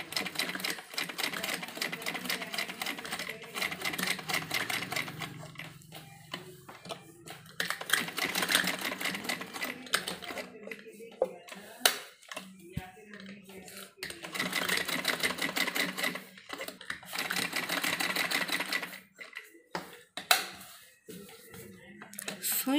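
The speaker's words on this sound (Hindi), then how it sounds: "तो बिल्कुल किनारे किनारे पर हमें सिलाई लगानी है।" A sewing machine stitches right along the edge of cloth while making a cutwork neck design, whirring close by in long rapid bursts broken by short pauses, with a voice speaking at times.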